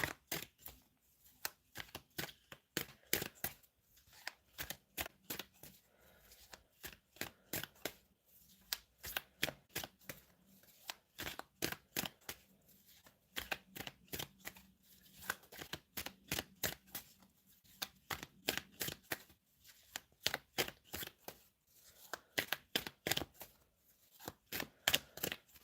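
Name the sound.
tarot cards being shuffled and drawn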